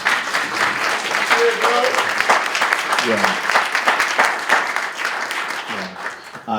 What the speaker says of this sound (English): Can we give Javita a round of applause, please?